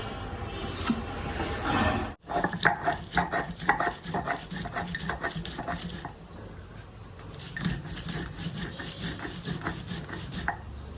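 Light rasping and scraping as the skin is pared off a bottle gourd by hand, steady irregular strokes close by with a few clinks of utensils, no talking.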